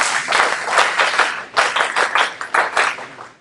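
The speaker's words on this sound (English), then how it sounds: "We do 11 claps." A group claps together in a laughter and positivity exercise, tapping out a counted sequence of bursts. The loud, close claps come in uneven clusters with short pauses between them.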